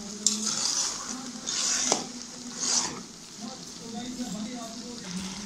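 Grated carrots and sugar for gajar ka halwa stirred in a pot, with repeated scraping sweeps of a spoon and soft sizzling, close and moderate in level, a voice talking quietly under parts of it.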